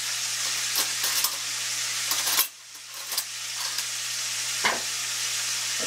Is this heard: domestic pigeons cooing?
no